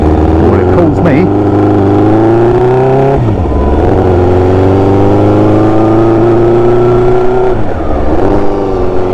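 The engine of a Tango car accelerates with a loud, close, rising drone and tonal whine, easing briefly before pulling again, with a voice talking over it.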